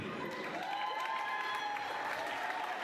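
Graduation audience at a university ceremony applauding steadily, a dense continuous wash of clapping throughout with no speech over it.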